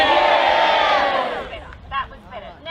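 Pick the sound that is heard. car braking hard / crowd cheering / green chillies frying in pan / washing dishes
crowd cheering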